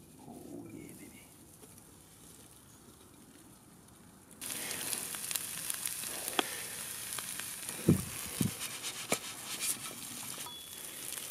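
Eggs and bacon sizzle over an open campfire outdoors, a steady crackling hiss that jumps louder partway through, with a few sharp pops and clinks near the end.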